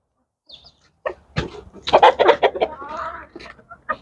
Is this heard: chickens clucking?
yes